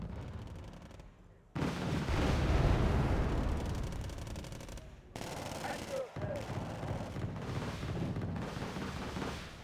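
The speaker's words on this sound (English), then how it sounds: "a couple of bombs from the Harrier actually managed to finish the backups off" Bombs dropped by a Harrier jet explode in a strategy video game battle, loud heavy blasts layered over continuous gunfire and rumbling combat with only brief gaps.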